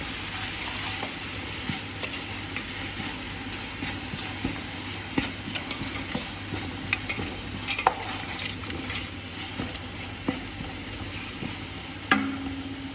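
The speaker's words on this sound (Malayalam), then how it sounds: "ഇത് ഇളക്കി മിക്സാക്കാം." Sliced onions sizzle as they fry in a large cooker with two spoons of salt for a Kerala-style camel curry, while a spoon scrapes and stirs in scattered clicks over the steady hiss.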